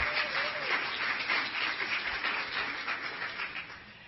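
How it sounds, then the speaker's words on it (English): Audience applause at a college visit presentation, a sustained wash of many hands clapping at moderate distance that slowly fades toward the end. "So please give her a round of applause for getting here."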